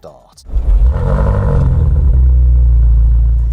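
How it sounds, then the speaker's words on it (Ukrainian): A new BMW M5 engine cold-starts: it cranks, then bursts into a loud, deep roar that settles into a steady, rumbling idle, close up. "А зараз саме час послухати холодний запуск двигуна."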